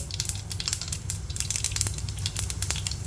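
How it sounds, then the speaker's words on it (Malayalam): Mustard seeds pop and sizzle in hot coconut oil in a pan, making a dense, steady frying hiss scattered with rapid crackling pops, close and continuous throughout. "ആ കടുക് പൊട്ടി തുടങ്ങി"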